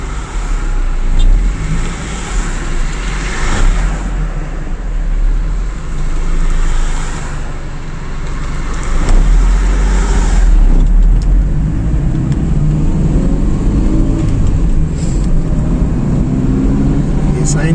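Road traffic on the Srinagar Highway near the Bhara Kahu bypass rumbles steadily, with cars and heavier vehicles passing close in loud, overlapping surges from start to end.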